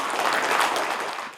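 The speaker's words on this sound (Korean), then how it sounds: "네, 여러분 박수 한번 보내주십시오." Audience applause at a Korean leadership ceremony where an honorary lecturer appointment is presented, a steady burst of many hands clapping that fills the room and then fades out, with no talking over it.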